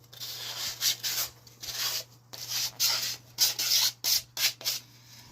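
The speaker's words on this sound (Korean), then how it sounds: "사포를 이용해서 이 거칠거칠한 가시 부분을 전부 다 제거를 해 줄 겁니다" Sandpaper rubs over rough, splintery wood on a wooden toilet-paper holder craft piece in repeated short back-and-forth strokes, close and fairly loud, with a faint steady hum underneath.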